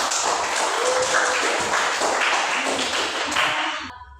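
A class of pupils claps hands together in a classroom. The clapping is dense, continuous and fairly loud, then stops abruptly near the end.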